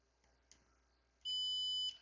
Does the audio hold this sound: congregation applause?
no